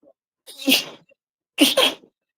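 Two sneezes, the first a single sharp burst and the second a quick double, both close and loud against silence.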